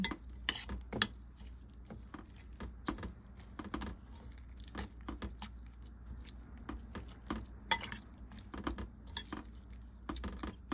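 Seaweed salad gets tossed with pepper and salt, faint scattered clinks and light scraping taps of utensils against a bowl in irregular bursts, with no talking.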